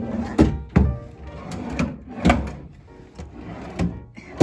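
In a lodge room at Palisades Tahoe, wooden dresser drawers slide open and shut in a series of close, loud thunks and rattles, about six knocks spread unevenly over a few seconds.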